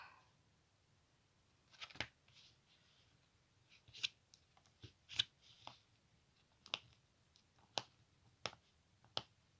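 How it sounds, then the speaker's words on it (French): Quiet, sharp snips of scissors cutting paper, about a dozen irregular clicks spaced apart, close by with a hushed background. "je reviens avec mes ciseaux"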